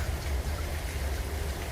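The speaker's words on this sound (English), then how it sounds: "It's raining." Steady rain falls on a New York street in a continuous, even hiss with a low rumble underneath, close and unbroken, with no voices.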